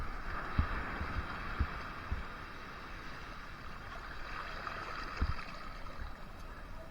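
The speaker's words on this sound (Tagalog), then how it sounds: "Grabe lakas ng alon." Strong ocean waves at Liwliwa beach in Zambales, a steady wash of surf broken by a few dull low thumps as the waves break, heard from close by with no talking.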